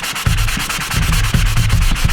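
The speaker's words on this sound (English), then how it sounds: "I'm just using a sand block and just taking my time" A sanding block is rubbed by hand over a painted Mosin rifle to strip the paint, giving close, steady scraping strokes in an even back-and-forth rhythm with no talk.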